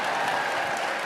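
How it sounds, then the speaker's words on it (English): Audience applause in a concert hall during a live talk event, a dense, steady clapping from a large crowd, loud and continuous with no voices over it. "That gets the applause."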